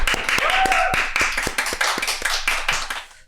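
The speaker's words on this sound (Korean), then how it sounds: "하나님께 영광의 박수 올려드리도록 하겠습니다." A church congregation at a New Year's Eve service claps in unison to glorify God, a loud, fast run of sharp, evenly spaced handclaps with a murmur of voices underneath, fading as the clapping tapers off.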